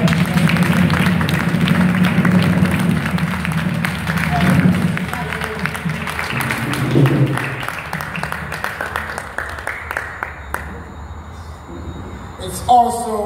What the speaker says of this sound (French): give to the Lord a beautiful clap offering